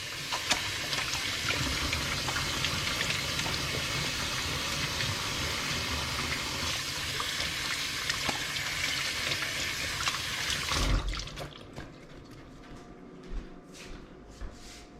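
Water runs steadily from a kitchen sink tap while hands are washed, a constant close hiss that stops abruptly near the end, leaving a quiet room with a few small knocks.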